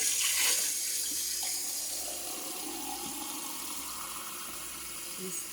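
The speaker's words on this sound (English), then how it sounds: "Fill it with water," Cold tap water runs steadily into a canner for sterilizing jars before canning apple butter, a continuous rushing hiss of filling water heard close and alone.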